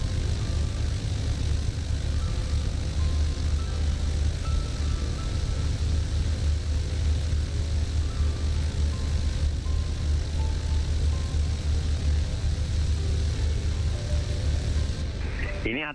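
An ATR turboprop airliner climbs after takeoff in Microsoft Flight Simulator, its propeller engines droning in a steady, loud hum throughout.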